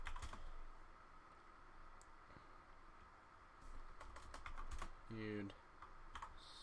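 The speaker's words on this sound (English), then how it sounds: "So let's type that one in" Bursts of typing on a computer keyboard, quick clicky keystrokes in short runs at moderate distance, with a brief spoken word and some light background noise around them.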